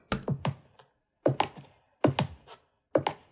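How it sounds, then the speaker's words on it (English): Footstep sound effect for a spooky cinematic short: four sharp, heavy steps at a slow, even pace, close and dry, with silence in between. "I added this footstep."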